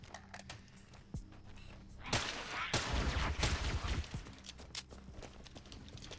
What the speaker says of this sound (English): It is a nice sniper rifle.